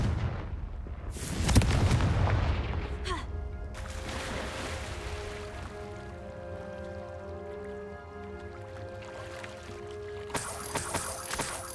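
A fiery Confringo spell blast from the Hogwarts Legacy video game bursts once with a loud, booming impact early on, then fades into a lingering low rumble with sustained musical tones.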